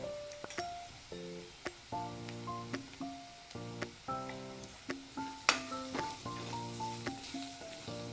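Asafoetida and turmeric dropped into hot oil in a pan while cooking a Maharashtrian yam and prawn dish, a soft steady sizzle with repeated clinks and light stirring knocks, no voices.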